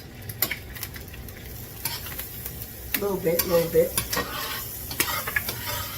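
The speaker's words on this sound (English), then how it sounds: "You're probably going to hear some frying" Butter mixed with oil sizzling in a cast iron pan, a steady soft frying hiss with scraping and utensil clatter, plus a brief voice speaking.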